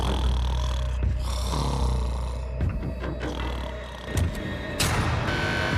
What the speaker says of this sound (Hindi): वो स्टूपिड कॉप सारी रात खर्राटे मारता रहा।